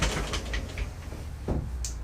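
A bathroom door in a 2019 Tiffin Open Road Allegro motorhome opens or closes with a few soft clicks and a brief thud, quiet and close, with no voices.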